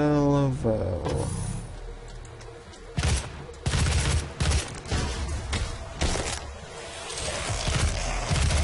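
Micro missile weapon firing in DOOM (2016), heard as repeated loud bursts of rapid explosive fire with a heavy low rumble, recurring in several clusters over busy game action and music.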